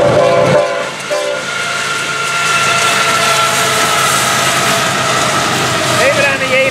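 Florida East Coast freight train FEC101 roars past close by at night, its horn blaring at the start, followed by a steady rumble and clatter of wagons.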